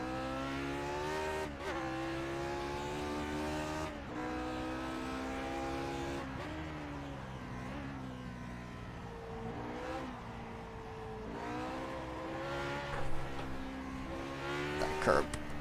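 A Lotus 49 race car engine in iRacing drones and revs continuously close by, its pitch rising and falling through gear changes and corners, while someone talks over it throughout.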